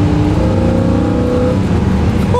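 Car on air suspension driving along, a loud close steady engine hum and road rumble.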